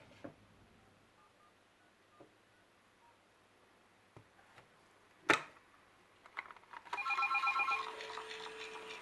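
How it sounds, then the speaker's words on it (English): A telephone on a landline rings after being called, triggering an automatic fish feeder; a sharp click comes first, then a loud burst of electronic ringing tones continues to the end. "So I will now demonstrate by calling this telephone here."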